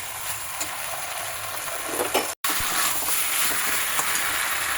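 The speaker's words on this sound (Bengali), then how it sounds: "তো আমি ভালো করে এটা ভেজে নেব, যেন মশলার গন্ধ ভালোভাবে চলে যায়, ওইভাবে কষে নেব।" Spices fry and are stirred in a pan in a steady, close sizzle. Scraping strokes come through now and then, and a brief dropout cuts the sound near the middle.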